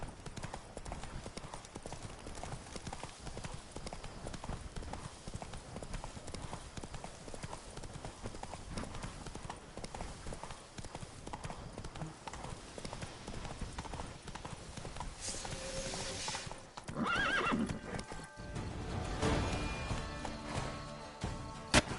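Roach, the horse in The Witcher 3: Blood and Wine, gallops with a continuous, rapid clip-clop of hooves that stays steady throughout, with other faint game sounds rising near the end.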